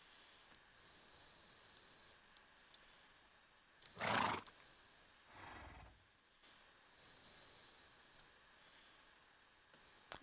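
A horse in Minecraft whinnies once, a short bright neigh followed by a quieter snort-like burst, faint against a quiet game background with no talk.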